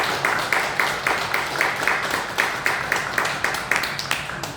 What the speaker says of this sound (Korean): 여러분 박수로 우리 한번